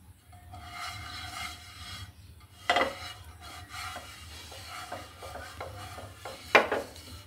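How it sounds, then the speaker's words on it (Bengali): Oil is brushed onto a pan on the stove while making egg pitha: soft, quiet rubbing strokes with two sharper metallic clanks from the pan. "আমি এখানে তেল ব্রাশ করে নিচ্ছি"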